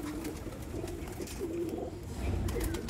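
Pure Sialkoti pigeons at a breeder's loft give soft, low, repeated coos close by, with light rustling and no talk.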